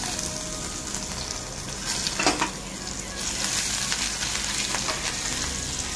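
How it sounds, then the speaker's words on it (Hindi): Dry whole spices, cumin, carom seeds, asafoetida, chilli and ginger crackle and sizzle in hot oil for taro curry, a steady close frying hiss with a few louder spurts from stirring. "ये सारे ड्राई मसाले हैं, अच्छे से भून लीजिए"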